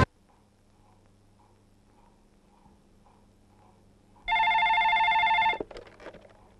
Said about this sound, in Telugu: పార్టీ ఆఫీస్ నుంచి ఫోన్